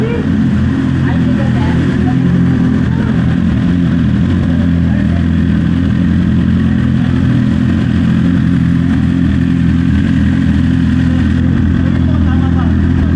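A motorcycle engine runs steadily and close throughout as someone rides around for practice, its low rumble continuous with some clatter and light revving over a busy ambient background.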